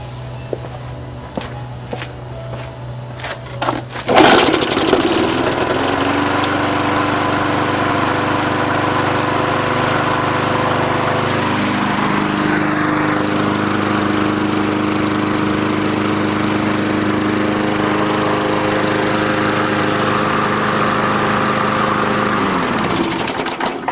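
A small Tecumseh lawnmower engine sputters, then roars to life and runs steadily at a loud, close, constant drone for the rest of the clip.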